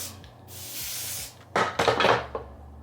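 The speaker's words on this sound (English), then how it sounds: "take a little bit of your spray like this, add it to the sides of the unit" Hair spray hisses onto the sides of a lace drawstring wig in two bursts, the first steady and the second broken into short puffs, close and clear.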